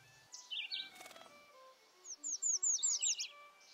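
Yellow warbler singing in new shrubby woods, a bright series of sweet, rising-and-falling whistled notes delivered rapidly, with a few softer chips first, clear and fairly near against a quiet background.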